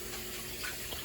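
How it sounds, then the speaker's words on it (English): Tap water runs steadily into a kitchen sink while hands are washed during home cooking, a close, continuous splashing hiss over the short stretch, with no voices. "Wash your hands again."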